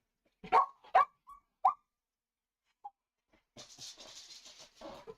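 A dog gives a few short, sharp barks in quick succession, fairly close, followed by a pause and then a softer stretch of faint noise with a brief yip at the end.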